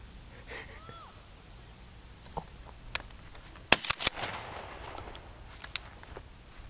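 Several sharp shotgun blasts crack out during a dove hunt outdoors, a loud cluster of close shots mid-clip followed by scattered fainter reports, with a voice briefly heard.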